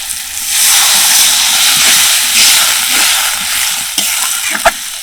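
Water poured into hot fried spice masala for an egg curry, a loud continuous sizzle and hiss of steam, close and steady, with a few clinks near the end.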